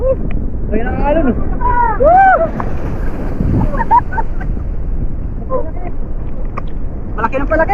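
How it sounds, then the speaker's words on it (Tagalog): Big ocean waves and wind at a beach, with surf washing and rumbling beneath strong wind buffeting the microphone, while people talk over the top at close range. "Laki ng alon."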